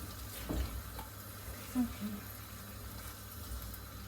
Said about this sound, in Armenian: աղներ կլցնեմ, նորից կխառնեմ